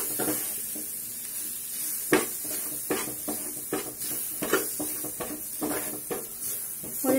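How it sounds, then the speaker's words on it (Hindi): Moong dal dry-roasting in a pan over a low flame for kachori filling: a soft, steady sizzle broken by repeated close scrapes and clinks of a spoon against the pan, with no speech. "अब दाल डालने के बाद आंच धीमी करके हम इसको अच्छे से भूनेंगे"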